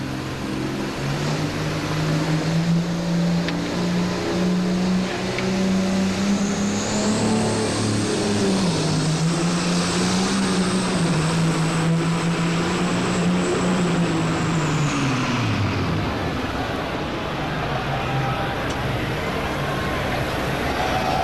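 A tractor at the 1991 National Farm Machinery Show tractor pull revs loudly and steadily for about twenty seconds. The engine pitch climbs, holds with wavering surges and then drops away near the end.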